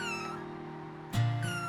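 A 5-week-old kitten named Misty gives a drawn-out meow followed by a second, shorter cry, close and fairly quiet, with no talking.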